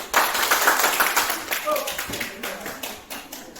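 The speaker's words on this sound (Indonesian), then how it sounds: "Yang masih semangat tepuk tangan 1 kali, 2 kali, 3 kali" Audience applause made of many overlapping hand claps in rhythm, counted one, two, three, fairly loud at first and fading slightly, with voices murmuring underneath.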